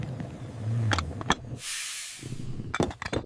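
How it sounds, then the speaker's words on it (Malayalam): A pressure cooker holding beef for a Kerala-style roast lets out a single loud burst of hissing steam lasting about a second, set between scattered kitchen clatter and knocks. "ഇനി കുക്കറിൽ വെച്ച് വേവിക്കാം."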